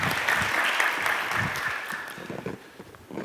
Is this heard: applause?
yes